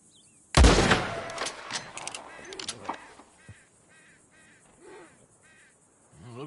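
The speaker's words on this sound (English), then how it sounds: "Put a shot in near them." A gunshot in a PS4 video game, fired close to a group of ranch hands: one loud, sharp blast followed by a decaying echo, then fainter bird-like caws and calls in the background.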